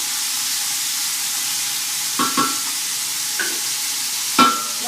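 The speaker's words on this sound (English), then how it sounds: "And add the garlic. Stir that around a little bit." Garlic sizzles in a pan with a steady frying hiss, broken by a few clinking stirring scrapes, close and without talk.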